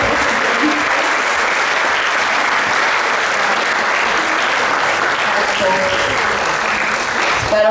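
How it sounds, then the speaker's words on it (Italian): Lively audience applause on stage welcoming an honored guest, dense and continuous clapping at close range, with a few faint voices mixed in near the end. "presento e chiamo sul palco Luca Zaia. Un applauso."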